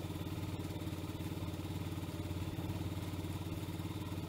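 A 50cc gas scooter engine with about 3,900 miles runs at a steady idle, a continuous rapid putter with a metallic clatter, close and even throughout.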